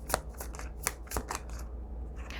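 Tarot cards shuffled by hand close up, a soft run of quick papery flicks and slaps, fairly quiet and with no talk.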